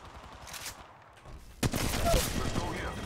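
Bursts of gunfire in the mobile battle royale Apex Legends Mobile: a quieter stretch of shots, then a sudden louder volley that keeps going, close and dense, with a voice talking over it.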